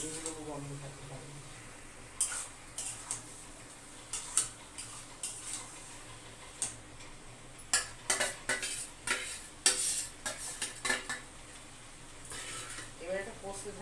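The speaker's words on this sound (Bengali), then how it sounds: "এবার এটা কষতে থাকবে।" Curry masala is sautéed in a pan, with a spoon scraping and clinking against the metal in irregular bursts over a low sizzle, and a person talks throughout.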